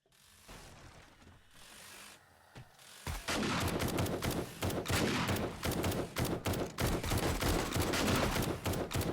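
Gunfire in the zombie survival game 7 Days to Die starts after a quieter stretch and keeps going as a loud, dense run of rapid shots with no speech.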